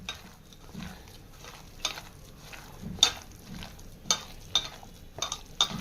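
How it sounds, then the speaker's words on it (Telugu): Chopped onions, coriander and curry leaves are mixed by hand in a bowl, a soft, quiet rustle punctuated by several sharper clicks and scrapes against the bowl's side, close up and without talk. "ఇది బాగా కలుపుకోవాలండి"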